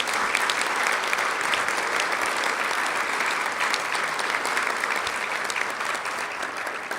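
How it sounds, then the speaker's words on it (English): Sustained audience applause honoring City Council members at a women's history celebration, a steady dense wash of clapping from a large crowd lasting throughout without pause. "Let's have a round of applause for our City Council members."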